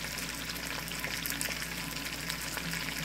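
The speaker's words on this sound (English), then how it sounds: "it's sizzling in its own juices with olive oil" Salmon sizzles and crackles steadily in hot olive oil, a soft, continuous frying hiss heard close up with no talking.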